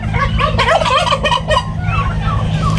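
Several turkeys gobble in quick bursts, close by and loud, their rattling calls overlapping over a steady low hum.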